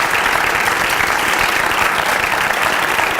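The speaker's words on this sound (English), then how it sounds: "So could you give Barb Barros a big round of applause?" A loud, steady round of applause from an audience at a cheerleading trophy ceremony. Dense clapping fills the whole stretch without a break.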